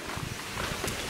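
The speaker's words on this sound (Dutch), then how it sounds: "Oeh, het waait wel hard vandaag" Strong wind buffets the microphone outdoors at a holiday spot, a broad steady roar with gusty surges throughout, loud and close, with no voices.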